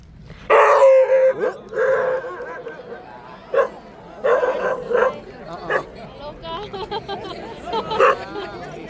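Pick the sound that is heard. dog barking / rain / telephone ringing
dog barking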